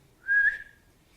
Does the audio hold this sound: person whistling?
yes